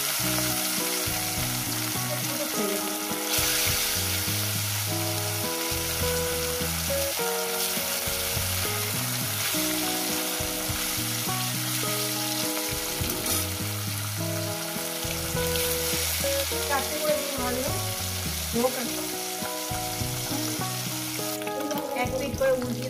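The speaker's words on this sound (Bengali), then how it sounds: "এক এক করে মাছটা দিয়ে দেবো।" Pieces of rohu fish frying in hot salted oil in a pan, a steady dense sizzle and crackle that runs throughout at moderate level, close up, with no talking.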